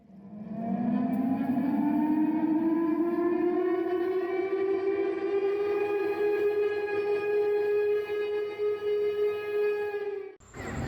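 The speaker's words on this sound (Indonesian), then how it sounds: "untuk penekanan tombol sirine" A wailing ceremonial siren at a Quran recitation competition opening rises from a low pitch and holds a long, loud, steady tone for about ten seconds before stopping abruptly.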